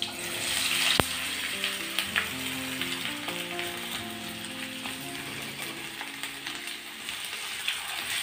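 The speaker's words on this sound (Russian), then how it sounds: "и я закидываю нарезанную мою картошку" Potatoes sizzle and crackle in hot oil, a dense frying hiss with scattered pops and a few clinks of utensils, close by.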